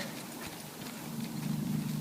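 Soft, rhythmic hoof clops of a horse walking on ground, fairly quiet and steady, with a low background hum.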